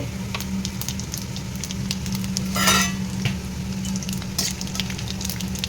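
Bay leaf, dried red chili and cumin seeds sizzle steadily in hot oil for a Bengali dal tempering, with a brief louder burst of spitting midway and faint clinks of a utensil, no talking.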